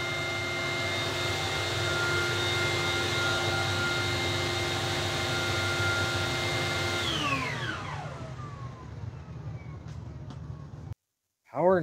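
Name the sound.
Hyla EST vacuum cleaner power nozzle running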